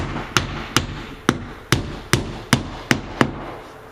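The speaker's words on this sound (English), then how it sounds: "Just gotta finish nailing" Hammer blows driving nails while installing a window in a muddy, flooded work site: eight sharp, evenly spaced strikes, each ringing briefly and loud at close range.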